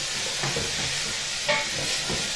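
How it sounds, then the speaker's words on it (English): Vegetables stirred in a sizzling pot for an economy stew, a continuous hiss of frying broken by several scraping stirs and a louder clatter midway, close up with no talking. "Stir your vegetables, and look at that, that's started the cooking process."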